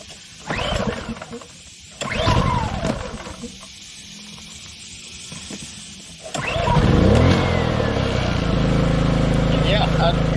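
A Pulsar GX400BN dual fuel generator running on propane and started on choke: a few short cranking pulls, then the engine catches and settles into a loud steady drone, with someone talking between the pulls.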